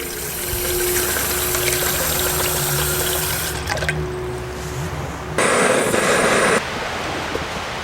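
Water running steadily from a tapped tree in the woods, a continuous outdoor trickle and gush close by, briefly swelling louder before settling back.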